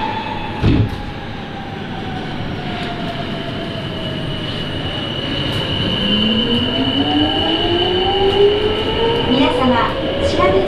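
A Sapporo Municipal Subway Namboku Line train runs underground from Odori toward Susukino, a steady loud rumble with rising wheel squeal and tonal motor whine throughout, one sharp clunk near the start.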